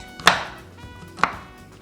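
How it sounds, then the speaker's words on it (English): A knife chops Theo chocolate on a cutting board for a dulce de leche chocolate cheesecake: two sharp, close chops about a second apart, with quiet kitchen room tone between them and no talking. "chop up this chocolate, add it to this bowl"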